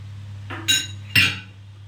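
A large spoon clinks twice against a metal pot while yogurt is added for kachur lati kasha, two sharp bright taps about half a second apart over a low steady hum.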